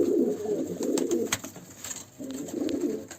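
Pet pigeons coo close by in low, throaty, rolling phrases, two bursts split by a short pause, over faint background noise.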